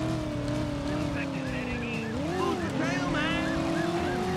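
A car racing through a chase in the video game Driver: a loud, continuous engine drone that climbs and dips in pitch as it shifts gears, with a voice talking over it.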